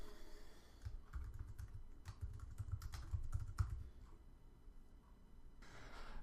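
Typing on a computer keyboard while coding in Xcode: quiet, close, irregular clusters of key clicks with short pauses between bursts.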